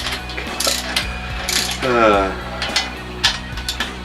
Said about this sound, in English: Alright, I think I'm about ready to start torquing.